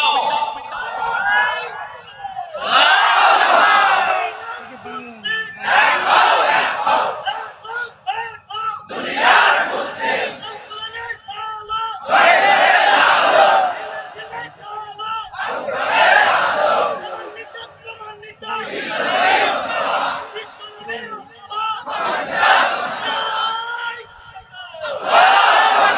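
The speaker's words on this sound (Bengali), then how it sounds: "জোরে তাকবীর দাও" A large crowd loudly shouts the takbir chant in repeated bursts, each roughly two seconds long and separated by short pauses, massed voices roaring in a steady call-and-response rhythm.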